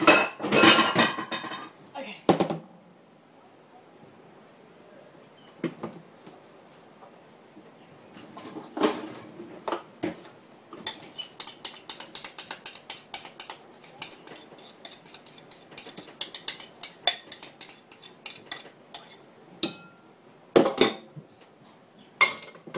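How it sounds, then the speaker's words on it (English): Kitchenware in a boat galley during crème brûlée making: scattered clinks and clatters of dishes, bowls and cutlery in irregular bursts, loudest at the start and end, with quieter stretches between. "Let me get a bigger bowl."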